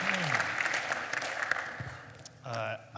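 An audience claps for an intern at a live sports analytics podcast event, a moderate burst of applause under voices that fades as speech takes over.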